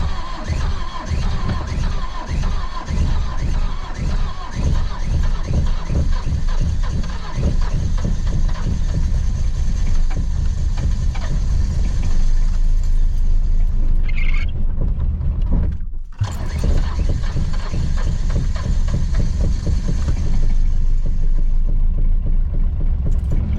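A Nissan RB30 car engine cold-starting on a cold morning, cranking with rapid rhythmic chugs before catching into a loud, rough, lumpy idle that briefly cuts out and then settles into a steady rumble up close.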